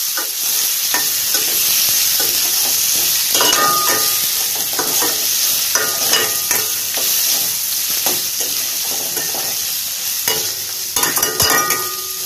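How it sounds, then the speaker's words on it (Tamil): Tomatoes and bajji chillies sauté in a pan for chutney, giving a steady close sizzle under repeated scraping and stirring strokes from a spoon, with no talk. "அடுத்து வந்து தக்காளி சேர்த்துடலாம். இது எல்லாமே நல்லா வதங்கட்டும்."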